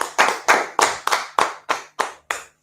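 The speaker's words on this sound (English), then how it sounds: "clap it up" Audience clapping as a slow run of about nine distinct, loud handclaps, each fading quickly, with no talk over them.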